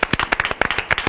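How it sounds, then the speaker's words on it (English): Close, sparse clapping from a small audience welcoming children about to sing a bhajan at a community show, a handful of distinct claps in an irregular rhythm. "Let's give the kids a huge round of applause."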